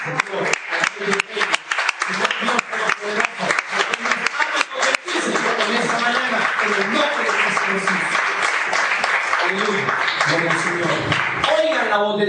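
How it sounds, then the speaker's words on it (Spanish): A church congregation at the Renacer church in Bucaramanga bursts into sustained applause during a morning service, a dense, continuous clatter of many hands that swells and holds steady after music and voices fade in the first few seconds. "Den un fuerte aplauso al Señor."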